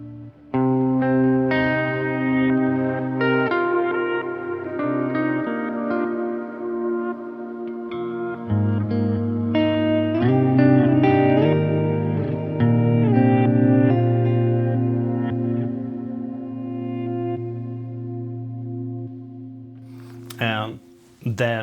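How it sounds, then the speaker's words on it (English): An electric guitar on an ambient post-rock pedalboard plays through a Mood pedal reverse delay with reverb added. Chords ring out in long, washy, overlapping swells, steady and fairly loud, then fade near the end. "Let's add some reverb."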